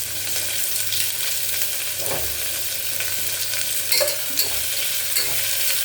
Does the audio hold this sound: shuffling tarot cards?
no